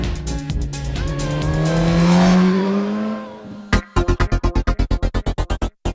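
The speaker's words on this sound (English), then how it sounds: "It also delivers an exciting exhaust note." Suzuki GSX-S1000 motorcycle engine revving up with a rising exhaust note, then a rapid series of sharp, evenly spaced bursts, loud and close with no talking.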